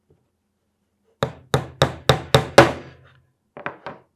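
Hammer blows driving dowels into a wooden DIY balance board: six sharp, evenly spaced strikes, then a pause and three lighter taps, close and loud, with a brief spoken word at the end.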